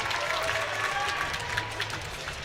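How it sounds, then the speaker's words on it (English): Crowd cheering and applauding for a hometown climber at a women's bouldering semi-final in Salt Lake City, a steady, dense roar of cheers and clapping that fills the space throughout. "the crowd, as you can hear, goes crazy for their hometown athlete."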